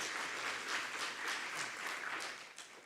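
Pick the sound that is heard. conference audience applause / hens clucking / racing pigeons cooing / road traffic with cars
conference audience applause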